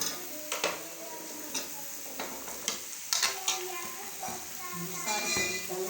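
Chopped mixed vegetables and chillies go into a hot pan and fry with a steady sizzle, broken by sharp metallic clicks and scrapes of stirring, close up and continuous.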